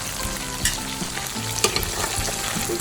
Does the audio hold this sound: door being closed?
no